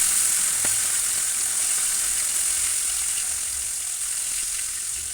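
Fish fried in hot oil in a wok give a steady, close sizzle that continues evenly throughout, fading slightly toward the end.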